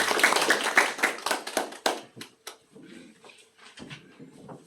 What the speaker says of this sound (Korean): 정충진 강사님 뜨거운 박수로 환영해 주시길 바랍니다